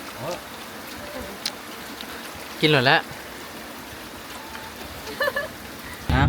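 Heavy rain falls on a rice-field hut, a steady, moderate hiss of rain on the surface that runs throughout, while people talk briefly over it.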